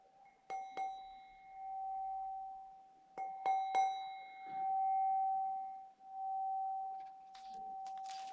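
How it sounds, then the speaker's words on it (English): A meditation bell closing a practice session rings clearly several times, each strike a bright metallic ding with a long sustained tone that hangs and slowly fades in a quiet room. "I'm just going to ring the bell"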